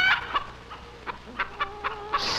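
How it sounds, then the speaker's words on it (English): Hens cluck in a yard in a series of short, close, moderately quiet calls spaced through the clip, with no talk. "And still you gullibly peck and gossip, contented in your foul yard prison"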